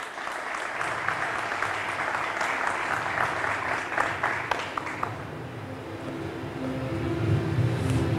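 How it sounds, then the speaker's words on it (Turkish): An audience at an archaeology conference applauds a university department head, a steady wash of clapping for about five seconds before it fades into a low rumbling room tone. "Alkışlarınızla efendim."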